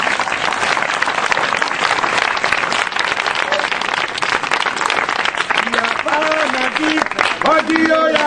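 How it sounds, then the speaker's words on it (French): Church congregation applauding and cheering in praise of Jesus Christ during a French-language worship service, dense sustained clapping throughout, with tonal singing or voices rising out of it near the end. "Est-ce qu'on peut acclamer Jésus-Christ?"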